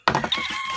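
Chickens on a backyard poultry farm, a third batch of birds, give a short burst of clucking and crowing calls, close and fairly loud, settling into a steady murmur of fowl.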